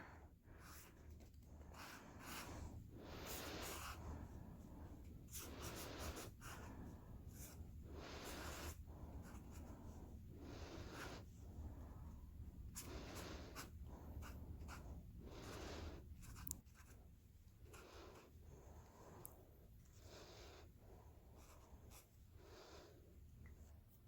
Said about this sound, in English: I'm going to outline it with the black here.